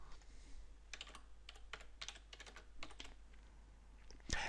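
Someone types a module title on a computer keyboard in Joomla, giving quick clusters of close, crisp key clicks with short pauses and a louder final keystroke.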